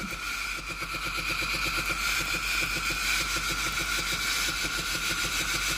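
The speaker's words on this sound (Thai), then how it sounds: "ได้ยินเสียงปั๊มน้ำทำงานนะครับ" Water pump inside a Philips GC7051 steam iron with a faulty water hose runs steadily: a close, continuous buzzing hum with a fast pulsing rattle and a faint hiss, lasting throughout with no talking.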